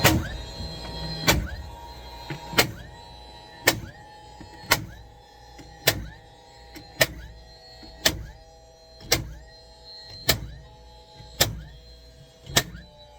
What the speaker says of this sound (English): That's gonna be this setting over here where it shows multiple nails, where you just depress the trigger and you can keep on going.